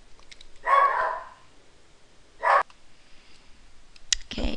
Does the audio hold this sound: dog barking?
yes